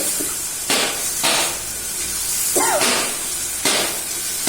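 Meat being sautéed and stirred in a pan for kosha brings repeated loud bursts of scraping and sizzling roughly every half second to second over a constant background hiss.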